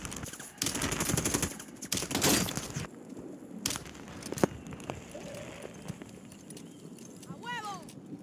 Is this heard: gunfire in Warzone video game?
yes